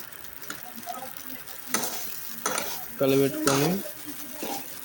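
A spoon scrapes and stirs egg rice in a hot pan as garam masala is mixed in, with soft sizzling, a few metallic clinks against the pan, and brief speech between strokes.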